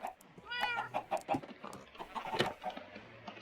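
Chickens in the Minecraft video game cluck in a quick series of short, irregular calls, fairly quiet, with a few bursts close together.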